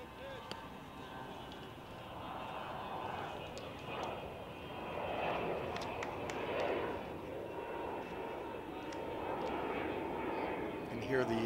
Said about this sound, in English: Hear the planes going overhead.